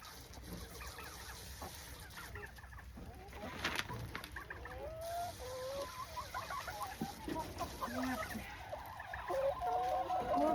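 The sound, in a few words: chickens clucking in their coop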